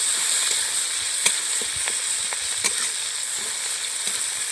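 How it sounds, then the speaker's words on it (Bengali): Chopped onion frying in hot oil in a home kitchen, a steady dense sizzle with a few sharp crackles and pops standing out, close and loud, no talking. "এবার আমি তেলের মধ্যে দিয়ে দিচ্ছি কুচিয়ে রাখা পেঁয়াজ।"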